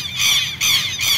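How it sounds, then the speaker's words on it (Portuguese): Southern lapwings, quero-quero, sounding an alarm near a lagoon in the Brazilian sertão: three loud, harsh, grating squawks in quick succession, close and unaccompanied. "Um monte de quero-quero, já anunciou."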